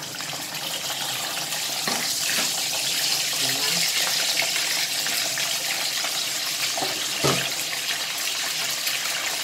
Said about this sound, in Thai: ทิ้งปลานอนไตในกระทะเลยจ้ะ